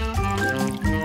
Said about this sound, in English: First, you need to pour a little oil into the pan.